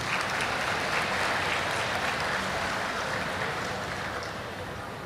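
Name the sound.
audience applause at a graduation ceremony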